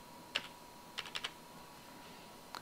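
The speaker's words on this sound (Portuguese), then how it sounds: "Vou agora digitar mais uma vez" A few quiet, isolated key presses on a computer keyboard while entering data in Excel, sparse clicks spread out over a couple of seconds.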